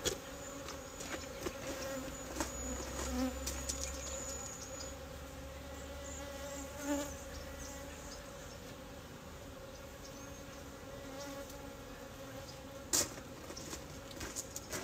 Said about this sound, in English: it looks like I got a bee up my sleeve